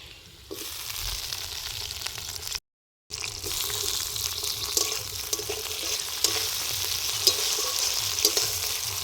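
Tomatoes added to fried onions sizzle steadily in a pan while cooking outdoors in a field, with stirring scrapes and a brief dropout early on.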